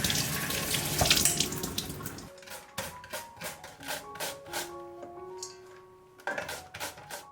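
Running tap water pours steadily over peeled taro being washed in a kitchen sink, loud and close for the first two seconds, then fading into intermittent splashes, handling clatter and faint trickles, with a brief water burst returning near the end; no talking.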